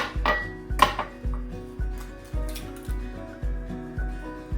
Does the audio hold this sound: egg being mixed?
yes